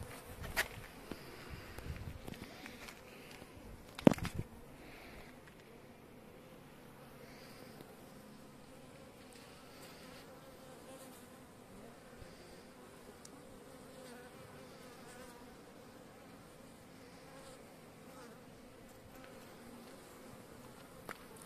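A tiny honey bee colony that has abandoned its hive, buzzing faintly and continuously nearby, with a few handling knocks early on.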